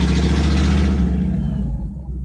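A car engine with its exhaust pipe hanging down rumbles loudly and continuously close by, then fades slightly toward the end.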